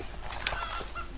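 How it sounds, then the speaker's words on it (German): In the survival video game Rust, a chicken gives a few short, moderately faint clucks against steady background ambience, with no talking. "Ich hab mal Huhn gehört."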